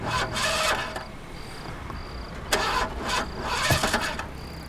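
A car stalled on the road at night, its starter cranking repeatedly in bursts without the engine catching, with a faint steady high tone running beneath, near and moderately loud.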